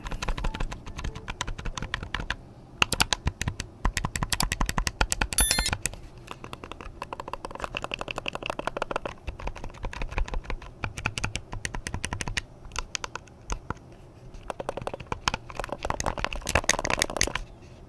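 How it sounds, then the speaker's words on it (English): Stock buttons on a Miyoo Mini Plus handheld are pressed in rapid bursts, giving a quick run of light, close clicks with short pauses between flurries. "So here's what the stock buttons sound like."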